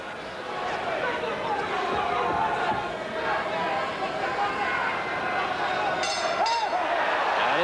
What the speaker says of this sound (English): This crowd here at Caesars Palace loving every minute of it.